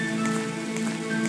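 Rain pattering on surfaces in the drama game I Remember The Rain, an even, constant hiss of drops with no breaks, fairly soft and steady, and no voices.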